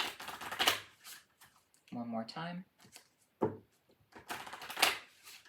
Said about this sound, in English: I'm being called to give you a riffle shuffle really quickly.